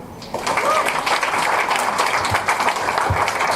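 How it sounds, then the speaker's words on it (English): After a brief quieter moment, a crowd at an anniversary and birthday event breaks into sustained, loud applause, with some voices faintly underneath. "So let's share a big round of applause for Casey Howe."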